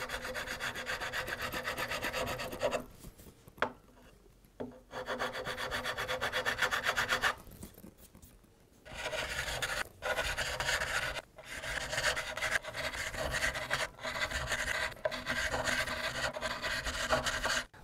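A metal file rasps across guitar fret crowns in steady back-and-forth strokes. The quiet, close scraping repeats in runs, broken by brief pauses.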